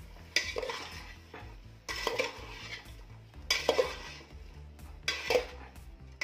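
A spoon stirring pav bhaji mixture in a pot, four rhythmic bursts of scraping and clinking metal against the pot, close and fairly soft, each followed by a faint sizzle, with no talk.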